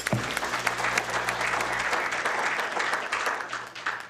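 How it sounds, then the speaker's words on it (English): Luncheon audience at a Millville Chamber of Commerce event applauds steadily for about four seconds, a dense continuous clapping that fills the room with no voices on top. "Give them all a round of applause."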